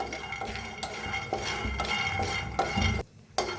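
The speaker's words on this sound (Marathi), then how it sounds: "तर कढाई ठेवलेली आहे, शेंगदाणे चांगलं भाजून घेऊया" Peanuts are dry-roasted in a kadhai, heard as repeated close scraping and rattling stir strokes against the metal pan in an uneven rhythm, with a brief pause near the end.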